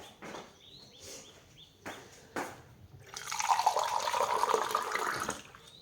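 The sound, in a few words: water poured into cooking pot of jackfruit chicken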